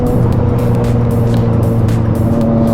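A Yamaha MT-09 naked motorcycle engine drones steadily at a constant pitch, a continuous loud hum with no pauses.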